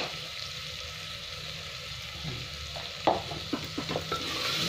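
Coriander and cumin powder sizzle steadily in a hot pan, with a few sharp stirring scrapes and clinks near the end.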